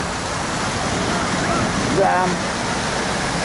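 City fountains in Kyiv pour water in a broad, steady wash close by. One voice speaks briefly over it.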